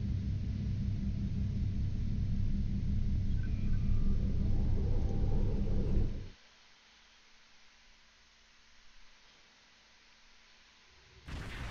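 A starship's slipstream drive in Star Trek Online gives a loud, steady low rumble that cuts off abruptly, leaving a quiet hum before a brief burst returns at the end.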